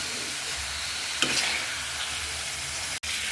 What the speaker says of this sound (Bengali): মাছগুলো দিয়ে দিলাম, দিয়ে মাছ আর আলু একসাথে আবার কষাবো।